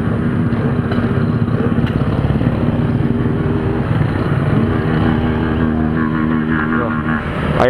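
Many motorcycles rumbling together at a group ride on the Serra Dona Francisca road, a dense continuous engine drone, loud and close throughout with shifting revs, while people talk over it.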